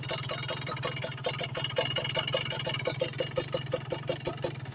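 A motorcycle engine idles close by with a steady, rapid pulsing beat, even and unbroken throughout.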